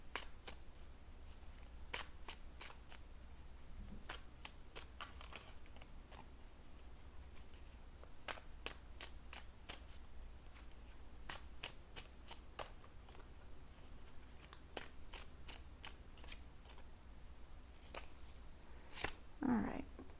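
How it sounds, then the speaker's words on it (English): Tarot cards being shuffled close up in a series of crisp, rapid riffles and snaps that repeat throughout, over a quiet background with some faint talk. "let's get a little deeper and pull some more cards"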